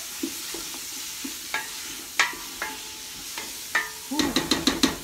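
Celery and other vegetables softening in a hot pan for chili hiss gently beneath scattered spoon taps and scrapes, ending in a quick run of sharp clinks against the pan.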